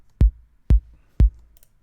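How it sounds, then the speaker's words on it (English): Three punchy electronic kick drum hits from a simple sample pack kick, evenly spaced about half a second apart, each a short deep thump with a quick click on top, played alone with nothing else sounding. "Then a simple kick from Kick 2."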